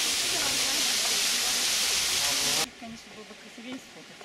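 Loud, constant rush of a waterfall in Cyprus that cuts off abruptly partway, leaving quieter background with murmuring voices of a crowd.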